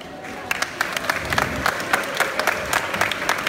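Audience applause for a team of professionals at a French cultural event, sharp individual claps standing out from a broad crowd clapping that carries on steadily at a moderate level.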